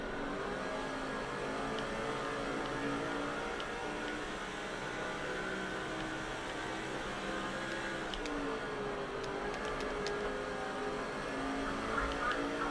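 Stock cars race in NASCAR 06 during a Busch Series event at California, their engines roaring in a steady, dense drone with shifting revs and occasional tire squeal, heard alone at moderate volume.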